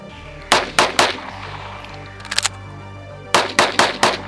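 Gunshots from a CZ Shadow 2 pistol, the first round fired double action: three sharp, loud, close shots, a short pause with a faint clatter, then four more quick shots, no speech.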